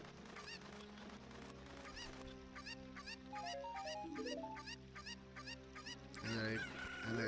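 A chicken in The Legend of Zelda: Ocarina of Time clucks and squawks in repeated short game-sound calls over quiet background music, growing louder toward the end.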